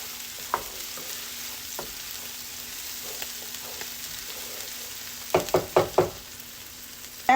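Onions fry in a pan for Asian chicken and fried rice with a steady close sizzle, and a few sharp stirring scrapes and clatters come near the end.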